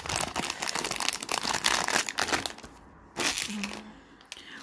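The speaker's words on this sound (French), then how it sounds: "J'ai pris mes petits ciseaux pour ouvrir ce qui est." Small scissors cut open a little cardboard blind-box package, giving close crinkling, snipping and rustling bursts that pause and resume near the end.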